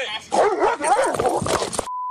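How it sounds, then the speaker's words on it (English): A police dog barks, yips and whimpers close by in short bursts during an arrest in which it bites a man on the arm. "That dog biting him on the arm."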